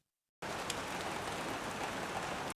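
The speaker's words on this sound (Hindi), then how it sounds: "बड़ी जोरों की बारिश हो रही है" Heavy rain starts abruptly after a short silence and pours steadily, a dense loud hiss of drops with no pauses.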